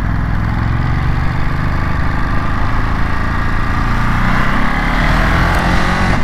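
A 2023 Ducati Monster SP motorcycle engine drones steadily while riding, a loud, continuous rumbling roar with wind noise and no talking.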